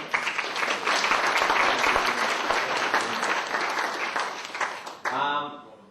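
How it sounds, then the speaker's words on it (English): Wedding guests give a hearty round of applause for the two best men, with dense clapping and a few cheers that build and then fade over about five seconds before a voice starts speaking. "Round of applause for them."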